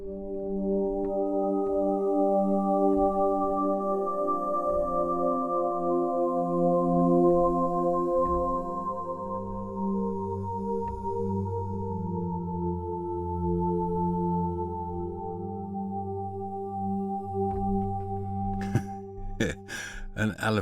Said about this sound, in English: from this kind of sounds up to spacey sounds like this